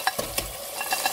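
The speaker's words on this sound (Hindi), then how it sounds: "अब मैं इसमें पालक शामिल कर रही हूँ" Frozen spinach goes into a sizzling onion-tomato masala for palak daal, a brief burst of frying hiss with a few quick stirring clicks close by.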